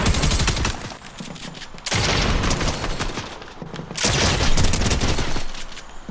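Shotgun blasts in a solo aim trainer game, three bursts of rapid booming shots each lasting about two seconds, loud and close with a ringing tail between them.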